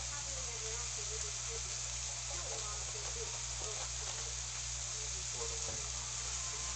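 Steak frying in a Granitestone Diamond pan, a steady close hiss and crackle with scattered small pops, continuous throughout over a low constant hum.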